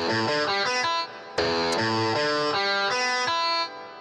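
Distorted electric guitar chords through an amp simulator in FL Studio Mobile ring out, heavily overdriven and thick with harmonics, with some reverb, in short phrases with a brief gap partway through.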